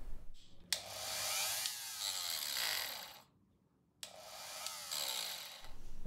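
Handheld rotary tool spinning a 3D-printed wheel rim for sanding, two bursts of high whining grind separated by a brief pause, fairly close and faint.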